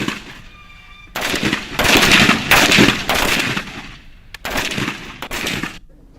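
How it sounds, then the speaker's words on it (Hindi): Machine guns fire during a joint Indian and US army training exercise at the Mahajan field firing range: several loud, close, rapid bursts of gunfire, each lasting around a second, separated by short pauses. "दोनों ही सेना के जवानों ने कंडीशनिंग और सामरिक प्रशिक्षण के दौरान फायरिंग की है।"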